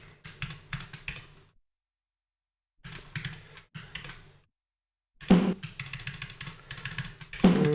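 Keys clatter on an Amiga 500 keyboard in bursts of quick typing, close and crisp, separated by silent pauses, with a heavier run of strokes near the end.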